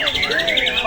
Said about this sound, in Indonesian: Ini adalah kinerja burung ya.